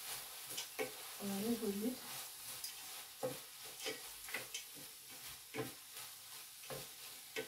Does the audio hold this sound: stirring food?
yes